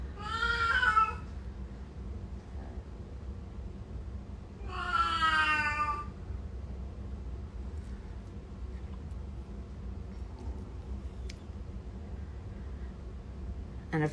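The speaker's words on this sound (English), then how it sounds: "Oh, sorry, that is just my cat." An old cat meows twice, each call drawn out and wavering, fairly close over a steady low hum of room noise, with long quiet stretches between the calls.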